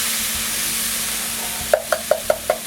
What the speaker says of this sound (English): Add your tomato sauce.